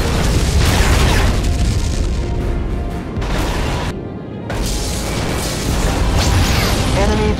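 A Romulan vessel blowing up in Star Trek: Legacy, heavy booming explosions and roaring crashes filling the scene, with a brief lull midway before the rumble resumes loud and close.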